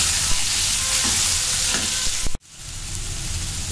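Chopped tomatoes fry in a pan for moong dal sambar. A loud, close sizzle carries scraping stir strokes, then cuts out abruptly and returns quieter.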